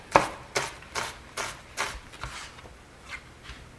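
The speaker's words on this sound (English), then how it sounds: "To dice the onion, horizontal cuts first" A kitchen knife dices an onion on a cutting board in steady, evenly spaced chops, about eight crisp strikes close by with no talking.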